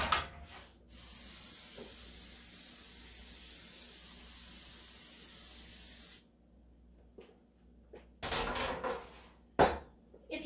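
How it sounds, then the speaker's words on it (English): A long continuous hiss of cooking spray onto a cookie sheet lasts several seconds, then stops, followed by a couple of short spray bursts and light kitchen clatter. "I'm also gonna lightly coat with a cooking spray"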